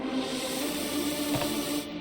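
A synth lead thickened with a supersaw hyper effect gives a bright, buzzing, densely layered tone. It is sustained and fairly loud, holds for about two seconds, then cuts off abruptly at the end.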